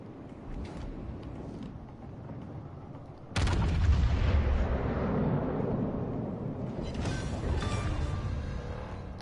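Naval combat in World of Warships Legends with a Yamato battleship: a sudden heavy boom bursts in after a quieter stretch, followed by rumbling explosions and scattered gunfire that carry on loudly to the end.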